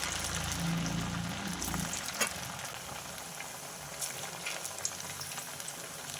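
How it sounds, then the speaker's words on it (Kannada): Poha ambode dough frying in hot oil, a steady, dense bubbling sizzle that runs throughout with a few small pops and no voices. "ನಂತರ ಎಣ್ಣೆ ಕಾಯುವಾಗ ಇದನ್ನು ಎಣ್ಣೆಗೆ ಬಿಟ್ಟರೆ ಇತ್ತು"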